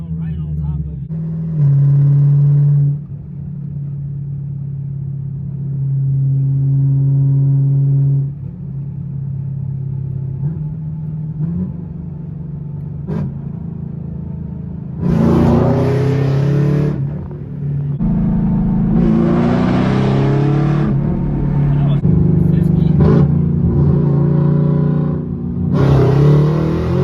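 Chevrolet Camaro ZL1 pulling hard with a loud, steady engine drone, sharp crackles and bangs from the exhaust on downshifts, and voices talking inside the cabin over the roar.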